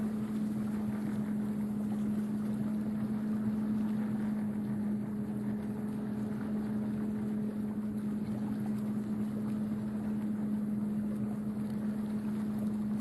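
Boat driven by an electric motor moving across the water while crabbing in Coos Bay, with a steady low motor hum under constant wind and water rush, continuous throughout.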